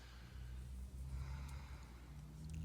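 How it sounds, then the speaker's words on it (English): Deep, heavy breathing with a snort-like rasp, close and fairly quiet, over a low steady hum. "Heavy breathing, can you hear it?"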